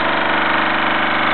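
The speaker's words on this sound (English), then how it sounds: "a 1978 Mamod SE3, probably the last of the line nearly, and was steaming actually on solid fuel" A 1978 Mamod SE3 model steam engine runs on solid fuel with a close, steady hiss and fast rhythmic chuffing that holds at an even level throughout.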